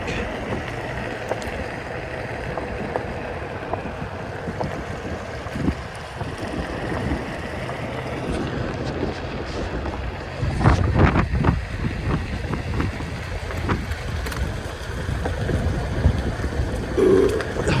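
Chilly gusting wind buffeting a microphone outdoors during a Onewheel ride through a neighborhood, steady rumble with heavier bursts toward the end, no talking.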